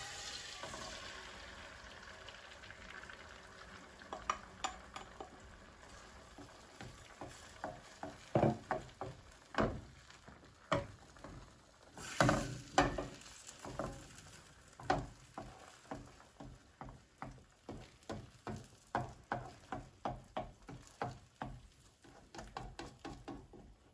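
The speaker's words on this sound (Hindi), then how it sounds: "हमारा ऑयल गरम हो गया। अब हम इसमें ऑमलेट बनाएंगे।" An omelette fries in hot oil in a frying pan, a soft continuous sizzle with scattered pops and scraping taps from a utensil, fairly quiet and close throughout.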